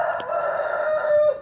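A rooster crows once, close by and loud, a sustained strained call that rises and then trails off, with no talk.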